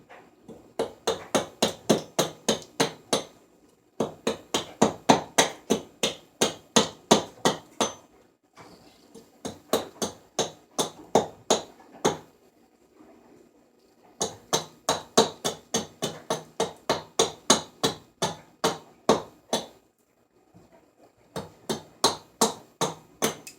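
Rapid rhythmic knocks of a tool chopping corners off a block of poplar wood while roughing out a kuksa, sharp close hits in bursts of around ten strikes separated by short pauses.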